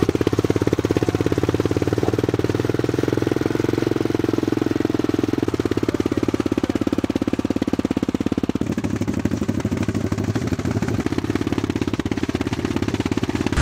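An enduro motorcycle engine runs steadily at close range, a rough continuous drone with slight shifts in throttle throughout.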